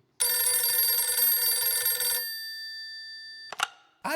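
A telephone bell rings loudly in one continuous burst, then stops. A short clatter follows as the receiver is picked up, and the clip ends in near silence.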